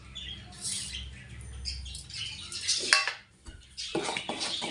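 A spoon scrapes and clinks against a pan while spiced taro paste is stirred, with uneven metallic scrapes and clatters close by at moderate volume.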